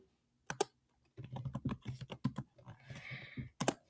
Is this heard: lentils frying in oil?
no